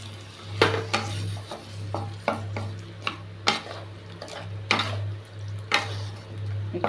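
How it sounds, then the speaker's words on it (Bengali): A spoon stirs banana flower curry in a metal pan, tapping and scraping the sides in repeated irregular knocks over a low steady hum, with a faint simmer beneath and no voices. "একটু নেড়ে নিলাম।"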